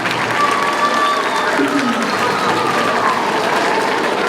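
An elementary school audience gives a round of applause for the second grade team, a dense, even wash of clapping from many people, with faint voices in the crowd.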